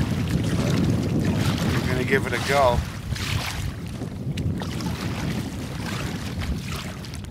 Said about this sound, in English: It's still pretty windy.